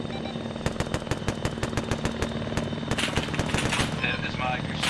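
Arma 3 combat, with rapid automatic gunfire in regular bursts over a constant helicopter-like engine drone, fairly loud, then a denser crackle of shots near the end.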